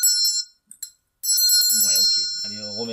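A small bell rung over playing cards during a magic trick gives bright, sustained metallic rings, a burst at the start and another later, with a few short taps between and a voice talking over the final ringing.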